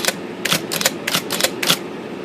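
IBM Selectric rotary backspace typewriter running correction backspace strokes, a rapid series of sharp mechanical clacks and thumps in an uneven rhythm, close and clear.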